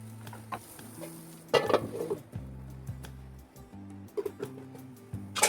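Raw banana slices cook in a pan with crushed garlic and curry leaves, heard as intermittent spatula scrapes and clatters over a soft, low sizzle, nearby and without speech.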